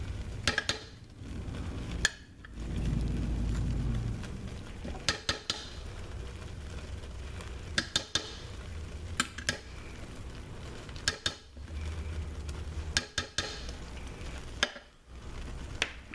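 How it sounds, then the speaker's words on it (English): Spoon loosely stirring and scraping melted shea butter soap ingredients in pots: intermittent sharp clinks and scrapes of metal against pot, with a low sloshing swirl in between, close and fairly quiet. "we're just going to loosely stir them"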